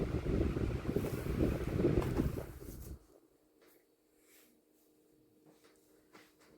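A 2016 Arctic Wind 12-inch desk fan spinning down after being switched off: a steady broadband whoosh of moving air that cuts away abruptly, leaving a faint low hum and quiet residual whir.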